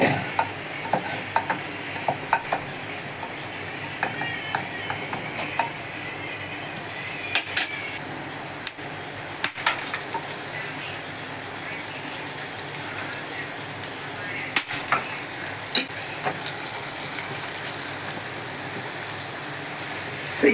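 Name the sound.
bay leaves and dried red chillies sizzling in cooking pot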